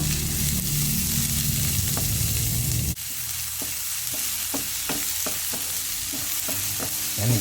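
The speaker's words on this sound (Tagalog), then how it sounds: "gisahin lang natin ng husto para lumabas yung aroma, yung amoy ng bawang at sibuyas" Onion and garlic sautéing in a pan while cooking katang crab, with a steady loud sizzle, a sudden drop after a few seconds, then repeated sharp clicks of a utensil against the pan.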